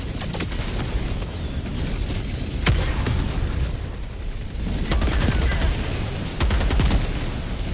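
Dense, continuous gunfire and booming blasts in a combat video game, with sharp bursts standing out around a few moments amid a constant din of shooting and explosions, loud and close.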